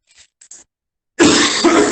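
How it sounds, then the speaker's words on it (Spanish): A single loud, rough cough from a man close to the listener, preceded by a couple of faint breathy sounds. "Discúlpenme, me ha caído una tos hoy."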